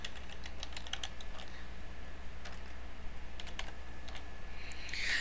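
Steady typing on a computer keyboard, quick light key clicks in irregular bursts over a low background hum, close by and with no voices.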